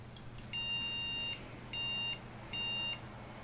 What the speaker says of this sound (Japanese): メモリーエラーの警告音なわけですね。